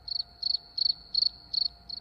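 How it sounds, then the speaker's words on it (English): Crickets chirp steadily, a clear high trill pulsing in six even bursts about every third of a second, up close and alone over a faint low background hum. "I'm hearing the crickets too, not just you."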